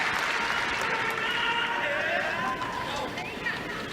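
Applause from the crowd at a French Open women's tennis final rolls steadily through the stadium, a broad wash of clapping under a radio commentator's voice.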